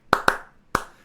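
Three crisp handclaps in a pop song, two close together and then a third after a short pause, sharp and dry with quick fading tails and no voices.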